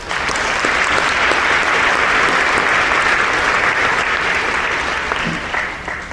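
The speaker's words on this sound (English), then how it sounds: "Give yourself a big round of applause." Dense, sustained applause from the audience at a high school freshman induction ceremony welcoming a new class, steady and loud throughout before tapering slightly at the end.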